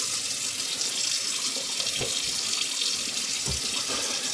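A tap runs steadily into a sink while a straight razor is rinsed, giving a constant close hiss of water with a couple of faint knocks, and no one speaking.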